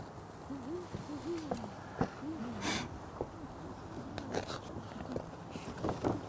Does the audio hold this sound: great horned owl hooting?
yes